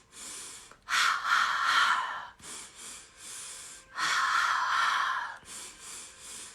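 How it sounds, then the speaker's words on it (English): Slow, deliberate breaths during a guided meditation practice, drawn in through the nose and pushed out through the mouth in long whooshing bursts, close and clear with short pauses between and no talking. "continuing to breathe that same pattern in through the nose 3 times, out through the mouth 3 times"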